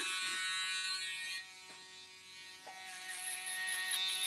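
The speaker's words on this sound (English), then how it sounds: "I'm going to go in with the shaver" An electric shaver buzzes steadily as it takes hair down to the skin on one side of a barbershop haircut, close and continuous with a slight change in pitch as it works the transition.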